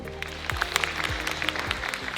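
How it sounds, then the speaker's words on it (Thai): An audience at a keynote talk about AI claps in a soft, scattered round of applause, fairly faint, with some low tonal sounds underneath. "ใครเห็นด้วยปรบมือครับ"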